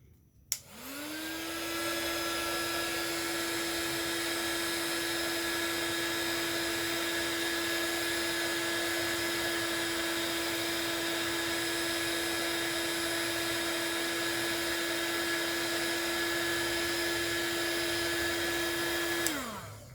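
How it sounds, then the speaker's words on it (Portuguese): A heat gun shrinking heat-shrink tubing blows with a steady high motor whine and rushing air for about twenty seconds, then winds down. "para vocês verem como esse soprador se sai, utilizando ele para fazer a contração do termo retrátil"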